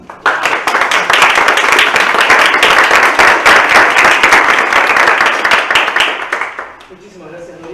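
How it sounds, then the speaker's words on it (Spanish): A live audience at a talk on digital materiality claps loudly and steadily for about six seconds, the applause then thinning out and fading as a voice begins speaking near the end. "el aplauso fue de carne y hueso"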